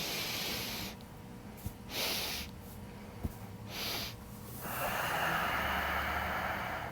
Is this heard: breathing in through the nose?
yes